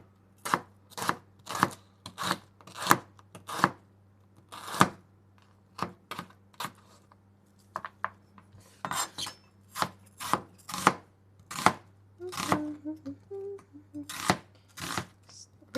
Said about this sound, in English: It's literally just watching me chop a bunch of stuff